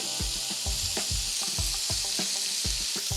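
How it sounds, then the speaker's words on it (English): Squash and two cans of corn for a squash corn chowder go into a hot pot, giving a close, steady sizzle broken by repeated soft thumps and scrapes as the vegetables land and are stirred. "We're gonna add our 2 cans of corn."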